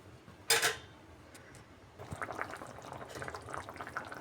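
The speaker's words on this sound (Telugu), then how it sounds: "ఇప్పుడు ఈ ఉల్లగడ్డల్ని బాగా ఉడికించుకుందాం మెత్తబడే వరకు" Potatoes simmer in a pan for aloo curry, softening as they cook. A brief hiss near the start gives way to faint, low, irregular bubbling.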